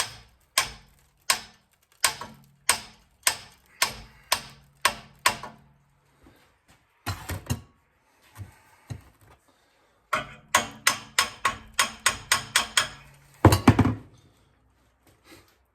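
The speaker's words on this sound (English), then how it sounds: "just tapping this pedal crank back and forth" A rusty pedal crank on a 1910-14 Flanders 4 under restoration is tapped back and forth, giving a steady series of sharp metallic knocks, then scattered thumps and a quicker burst of closely spaced taps, close and fairly loud with no talk.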